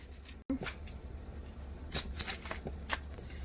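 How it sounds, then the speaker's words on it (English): Plantain skin being peeled and pulled open by hand, a series of soft, close dry rips and crackles, quiet and unaccompanied by talk. "this is how to peel plantain"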